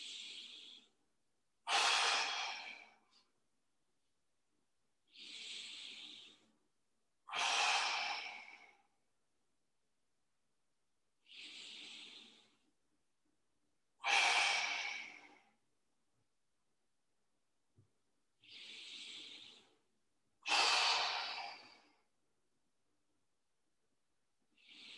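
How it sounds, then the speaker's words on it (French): Deep, slow breathing during a mobility rotation exercise, with eight or so long breaths alternating between softer inhales and stronger, airy exhales, each lasting over a second and separated by silence, close and unaccompanied by speech. "on fait 5 à 6 respirations de plus pour essayer de faire la plus grande"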